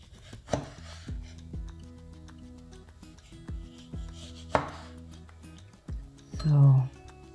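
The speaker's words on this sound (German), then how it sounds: "jetzt wird sie in Streifen geschnitten, etwas dickere Streifen" A knife cuts a tomato into thick strips on a board, giving a few sharp, separate thuds spaced seconds apart over a steady musical background.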